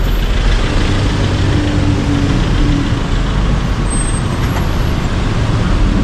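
Heavy city traffic on Soi Sukhumvit 11, Bangkok, a constant loud wash of buses, trucks and cars passing near, with an occasional air-brake hiss over the unbroken road noise.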